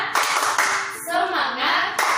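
A teacher leads a rhythmic 'tepuk semangat' clapping chant for kindergarten children, with quick patterned hand claps interleaved with a spoken chant, close and moderately loud.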